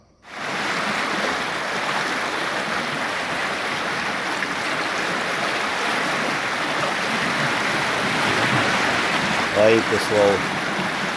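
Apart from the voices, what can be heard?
water flowing in a full canal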